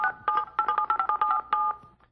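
Mobile phone keypad tones beep in a quick irregular series of about a dozen short presses while a text message is typed, close and clear with no talking.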